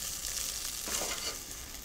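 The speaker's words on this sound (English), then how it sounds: "just give that a stir" Food sizzling in a hot pan for a branzino recipe while it is stirred, a steady close frying hiss with soft scraping stir sounds throughout, and no voices.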